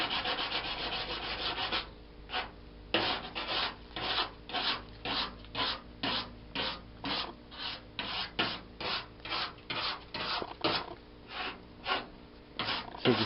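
A scrub pad rubs over textured, not-quite-dry paint on a rat rod body, a steady harsh scrape that breaks into rhythmic back-and-forth strokes, close and loud, with no talking.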